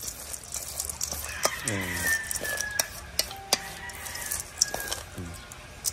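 A rooster crows amid scattered clucking from chickens, close by, with clattering and scraping noises around them.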